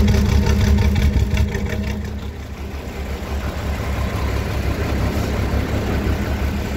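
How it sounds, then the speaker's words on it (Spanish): An old Mercedes truck engine idling at a night museum event with antique buses, a loud, close, steady diesel rumble with a rapid even throb that continues throughout without speech. "Escuchen el motor."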